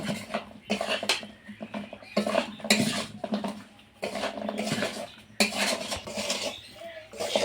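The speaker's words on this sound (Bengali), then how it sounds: "শুধু মিষ্টিগুলো এইভাবে দিয়ে নেড়ে চেড়ে নামিয়ে নেব" Flour sweets stirred in sugar syrup in a pan with the heat off, giving repeated scraping and clattering of a utensil against the metal in uneven bursts, close and fairly loud.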